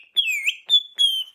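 Three bright whistled notes, the first a gliding two-part call, the next two short and steady, clear and close with no talk around them.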